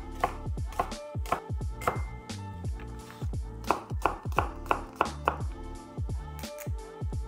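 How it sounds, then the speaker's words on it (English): A kitchen knife roughly chops shallots and garlic on a cutting board, a close, steady series of crisp knocks in uneven bursts with no talking. "Next, I will chop roughly some shallots and garlic."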